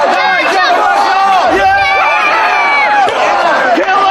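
A loud wrestling crowd at a Ring of Honor world title match chants rhythmically and cheers for Nigel McGuinness, many voices rising and falling together in repeated calls.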